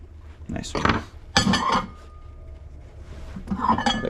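Glass dishes clatter and clink inside a microwave in several sharp knocks and rattles, close and fairly loud, with brief clunks between quieter moments.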